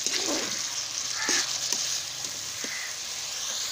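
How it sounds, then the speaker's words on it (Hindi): Onions frying in ghee in a kadai, a soft steady sizzle nearby with a few light stirring scrapes, no voices. "कढ़ाई में हम लोगों ने थोड़ा सा घी और डाल लिया और अब हम लोग प्याज को हल्का ब्राउन करेंगे।"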